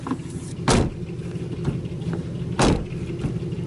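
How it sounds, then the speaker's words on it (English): Dodge SRT-4 project car with a damaged, body-filler-patched door, heard as two solid door thumps about two seconds apart over a steady low background hum. "And the way the door opens and shuts."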